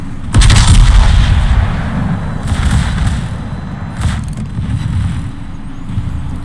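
A Musashi battleship in World of Warships fires a heavy, loud salvo with a deep booming blast, followed by rolling rumbles and softer distant thuds as shells land.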